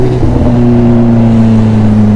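Several motorbikes drone and rev nearby, steady loud engine tones holding with a slight rise in pitch, with no talk over them.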